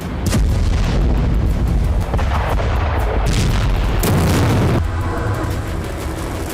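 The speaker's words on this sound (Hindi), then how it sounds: "अमेरिका ने अब तक की सबसे घातक और सबसे विनाशकारी मिसाइल का टेस्ट किया" A hypersonic missile test launch, the Bolt 1B, in Norway, rendered as a continuous loud rumbling roar with sharp bursts and booms, no voices heard over it.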